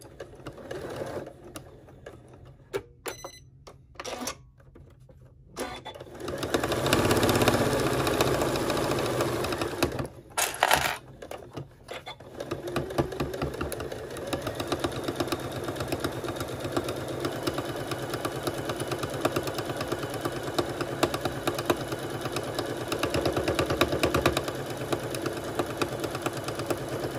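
A sewing machine stitches along the top edge of a fabric two-bottle wine tote, running in a steady, close mechanical whir that holds on with a brief pause partway and no talking.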